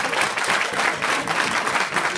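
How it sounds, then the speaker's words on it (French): An audience applauding during a business talk, a brief burst of many hands clapping together, dense and fairly loud, steady from start to finish. "On peut vous applaudir?"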